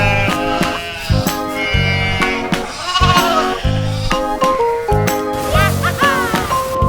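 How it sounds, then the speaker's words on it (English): Sheep bleating in a cartoon farm scene, repeated wavering bleats over bright, rhythmic background music, loud and close, with no talking. "Stay here, sheep."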